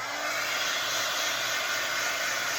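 A hair dryer blows on a painted thrifted cross, a loud, steady, close airy roar that stays constant throughout.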